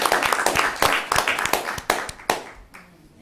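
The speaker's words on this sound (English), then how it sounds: "let's give one last round of applause" A small group claps in a round of applause at a school district board meeting, sharp distinct claps from a few people near the microphone that thin out and fade to quiet.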